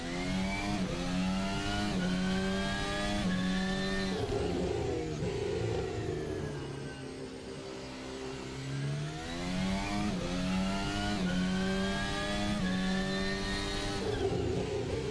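A Formula 1 race car's engine screams nearby at the Baku street circuit, holding a high loud pitch, dipping briefly as it slows, then climbing again through repeated upshifts with no voices.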